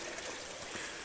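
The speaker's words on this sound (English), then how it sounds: "Just the sound of running water." Running water of a stream in a quiet valley, a soft, steady broadband rush with light gurgling texture, continuous and unbroken with no voices.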